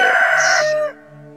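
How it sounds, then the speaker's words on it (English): In the farming game Stardew Valley, a rooster crows once, loud and close, a single bright cock-a-doodle-doo that cuts off abruptly and gives way to soft ambient game music. "I hear you, rooster"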